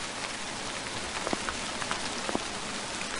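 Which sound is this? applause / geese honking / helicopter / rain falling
rain falling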